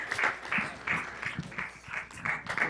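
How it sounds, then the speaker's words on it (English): A council-meeting audience applauds the parents of a girls' sports team, with a steady, close spatter of many hands clapping in pulsing waves and no one speaking. "the parents definitely deserve a huge round of applause"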